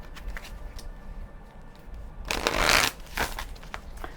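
A deck of cards is shuffled for a tarot-style card reading, a close riffle that bursts into a loud ruffling flutter after soft handling sounds, then gives a few lighter riffles.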